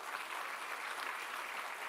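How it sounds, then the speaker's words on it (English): Audience applause at a university day celebration, a dense, even wash of many hands clapping continuously, heard at a distance and fairly soft. "So give a big round of applause to all of you."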